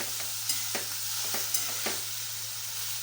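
A tomato sauce mix for dry soybean bhaji is stirred in a frying pan, a steady soft sizzle under a constant low hum, with several light scraping strokes of a spoon spaced across it.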